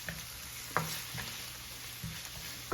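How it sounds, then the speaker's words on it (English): Celery tipped into softened peppers frying in a pan, giving a steady sizzle with a few sharp stirring clicks and scrapes at irregular intervals. "So next I'm going to add my celery"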